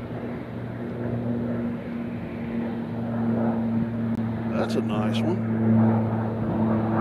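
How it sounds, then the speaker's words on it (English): An airplane passes at Nashville International Airport, a low steady engine drone with tonal hum running throughout, growing slightly louder midway, while people talk nearby. "Ooh, look at this plane."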